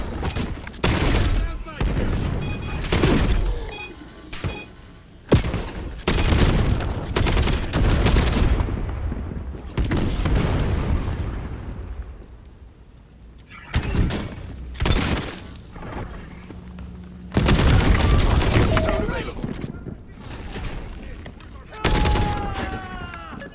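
Call of Duty Black Ops 7 gameplay with an LMG firing mortar rounds: loud, close bursts of gunfire and booming explosions arrive in repeated waves, with short lulls between the volleys.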